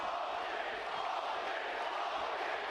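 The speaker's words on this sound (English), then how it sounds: "You can hear the crowd." Arena crowd at a Tofiq Musayev MMA fight, a steady, dense roar of cheering voices that holds at an even level throughout without distinct peaks.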